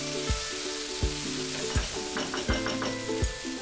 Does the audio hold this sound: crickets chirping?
no